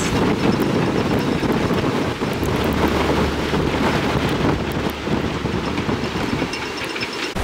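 Strong wind roaring and buffeting the microphone continuously beside moored boats in the Dominican Republic, a loud, rough rush with gusty rumble underneath.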